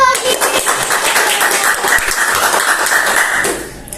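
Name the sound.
audience applause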